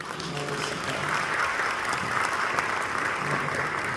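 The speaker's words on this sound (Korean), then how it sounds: "박수 한번 주시겠습니다." Audience applause at a Korean church open debate forum on church and society, held at a congregation hall: steady, dense clapping from a sizable crowd, sustained evenly for several seconds with no talk over it.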